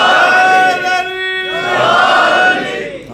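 A crowd at a religious celebration for the birth of Imam Hussain shouts slogans in loud unison. The chant is sustained and voiced, with swelling and fading voices over about three seconds.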